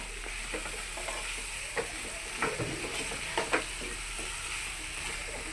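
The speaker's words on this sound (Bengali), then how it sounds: "লবণ আর হলুদটা দিয়ে এবার ভালো করে নাড়িয়ে চাড়িয়ে মিশিয়ে নিতে হবে" Vegetables with salt and turmeric being stirred in a pan: a steady sizzle underneath with scraping stir strokes, a few sharper scrapes standing out near the end, close and alone.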